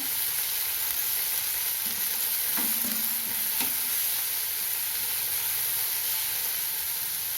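Onions frying in a pan for a spicy Tamil dal adai, giving a steady, loud, continuous sizzle with a couple of faint stirring scrapes midway.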